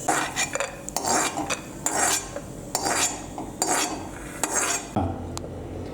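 A spoon stirs almond and cashew slices roasting in ghee in a pan, with steady, close metallic scraping and clinks repeating rhythmically for several seconds.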